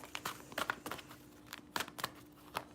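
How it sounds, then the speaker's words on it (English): Tarot cards being shuffled by hand, a quiet close series of crisp riffling flutters and taps in an irregular rhythm, with no talking. "I'm going to shuffle"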